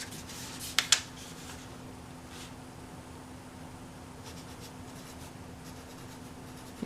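Pen or marker writing words on a Mother's Day craft, soft scratchy strokes with a couple of sharp taps near the start, quiet and close over a faint steady hum.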